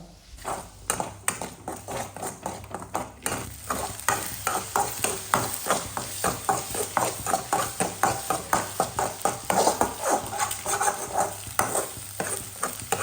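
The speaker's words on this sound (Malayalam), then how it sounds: "നമുക്ക് നന്നായിട്ട് സ്ക്രാമ്പിൾ ചെയ്തെടുക്കണം" Eggs seasoned with salt and pepper are stirred in a pan. Close, steady, rhythmic scrapes and clacks repeat for the whole stretch over a soft frying sizzle, with no talking.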